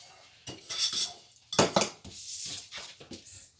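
A mixing bowl and utensils clatter and clink in a kitchen while cookie dough is made, a series of short metallic knocks and scrapes at close range with no talking.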